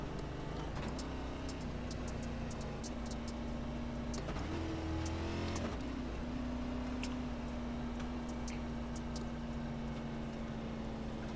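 Several NASCAR race cars from the iRacing video game circling the Bristol dirt track, a steady droning engine whine that shifts pitch midway as the pack passes, continuous and fairly loud with no talk.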